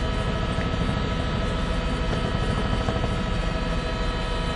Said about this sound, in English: the law enforcement helicopter that's up here with us